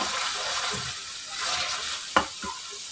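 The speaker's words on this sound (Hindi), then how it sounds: "1 मिनट के लिए इन्हें हरी मिर्चों के साथ भून लेंगे।" Mutton keema frying with green chillies in Shinwari style, a steady close sizzle broken by a couple of sharp scraping stirs near the end, with no voices.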